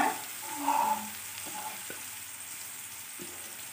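Onions frying in a pan for a potato and egg curry, a steady soft sizzle with a few light clinks of stirring, close and alone without talk.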